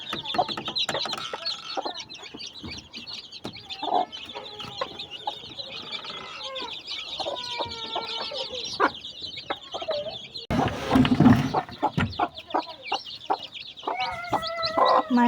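Domestic hens cluck steadily beside a brood of chicks hatched four to five days earlier, with thin peeping mixed in. The calling is close and continuous, and a few louder squawks and a burst of fluttering stand out near the end.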